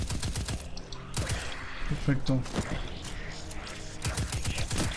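Rapid bursts of gunfire from the Destiny 2 video game crackle in quick volleys with mechanical clicks, close and loud, while someone speaks briefly over them.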